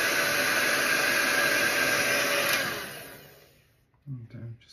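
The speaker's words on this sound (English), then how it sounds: "I just take my blow dryer and blow it out onto that same paper towel or toilet paper" A blow dryer blasts steadily, close and loud, pushing melted Copper Johns mustache wax out of a cone onto a paper towel, then cuts off and fades away, followed by a brief low rumble.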